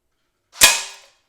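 A semi-automatic airsoft BB gun fires a single sharp, close shot into a pellet trap, a crisp crack followed by a brief ringing decay, then silence.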